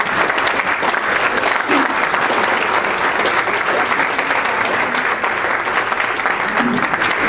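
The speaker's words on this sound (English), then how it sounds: "So I want everybody to give a round of applause for all the sponsors." A convention audience at an Arizona Tea Party event gives sponsors a sustained round of applause, dense steady clapping filling the whole room without a break from start to finish.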